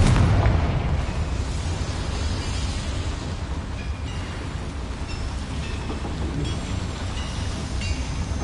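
A Confringo fire spell explodes in the Hogwarts video game. A loud boom opens the moment, then gives way to a long, crackling rumble that slowly fades with scattered pops.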